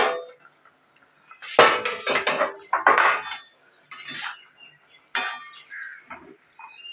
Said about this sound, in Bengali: ঢাকনাটা খুলে দেখব পটলটা সেদ্ধ হয়েছে নাকি